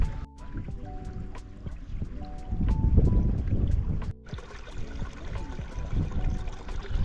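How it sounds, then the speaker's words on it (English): Water shooting out from under wet grass into a small stream near a waterfall source, a close, continuous gurgle and trickle with bubbling surges, alongside scattered clicks and thumps from handling nearby. "The water's just shooting out from under the grass."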